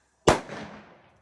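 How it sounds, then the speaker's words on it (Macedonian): A single firecracker bursts up close with a sharp, loud bang, followed by a short crackling decay as the New Year celebration noise fades out. "Тоа беше од пукање петарди."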